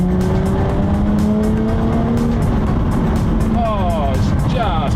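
A Jaguar F-Type sports car engine revs hard and accelerates, its pitch climbing through rising gear sweeps, loud and close with constant wind and road roar.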